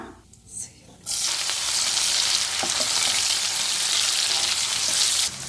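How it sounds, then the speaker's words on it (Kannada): Onion dropped into hot oil already holding cumin, bursting into a loud, steady, close sizzle that holds for several seconds after a quiet start, with faint stirring knocks underneath. "ಜೀರಿಗೆ ಆದಮೇಲೆ ಈರುಳ್ಳಿ ಹಾಕ್ಕೊಳ್ಳೋಣ"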